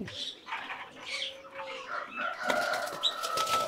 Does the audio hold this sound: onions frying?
no